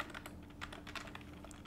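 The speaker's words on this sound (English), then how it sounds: "So I'm going to type my email" Someone types an email on a computer keyboard, a quick run of light, close key clicks in an irregular rhythm, heard alone and fairly faint.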